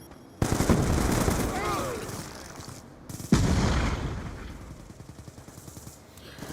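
Call of Duty gunfire crackles in two loud bursts of rapid shots, the second starting partway through and trailing off into scattered reports, with a voice faintly mixed in.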